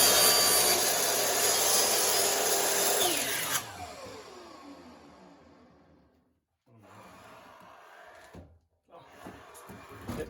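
A power saw cuts through wood while making a segmented wooden spinning top, a loud steady whine for over three seconds, then winds down to quiet workshop sounds with light handling noises.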